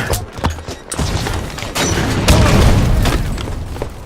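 Video game combat rattles with rapid bursts of gunfire and heavy booming explosions, dense and loud throughout, with sharp cracks layered over deep rumbling blasts.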